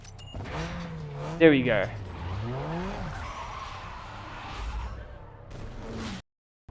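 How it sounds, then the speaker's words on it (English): A Mazda Miata MX-5 1.8L I4 in Need for Speed Underground 2 launches and spins out, tires squealing with rising and falling engine revs under steady talk, then cutting off abruptly. "Everyone wants to see the car just spin out of there."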